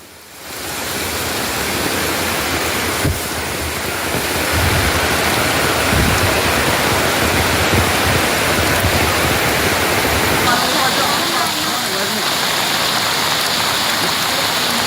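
Flash flood water from the hills rushing through a village in Vaniyamkulam, Palakkad, a loud, continuous roar of turbulent water that fills the whole clip and swells slightly partway through, with no voices.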